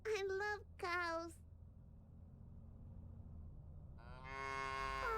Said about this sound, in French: There's a bunch of cows on the field.